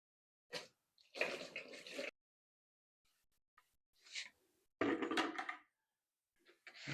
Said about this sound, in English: So I'm going to add 1 gallon of water into it just for the test.